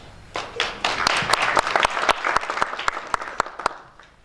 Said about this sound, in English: Another warm round of applause for